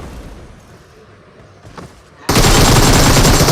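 Gunfire in PUBG Mobile: after two seconds of quiet, muffled game ambience, a loud, dense burst of rapid automatic fire begins abruptly and fills the rest of the clip.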